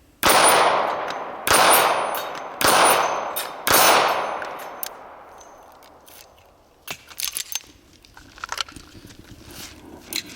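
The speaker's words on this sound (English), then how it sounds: "So that's what it's like with hitting with 9mm." Four evenly spaced 9mm gunshots ring out loudly, each followed by a ringing decay from steel targets, then scattered fainter clicks and knocks close by.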